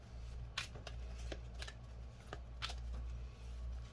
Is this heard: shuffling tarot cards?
yes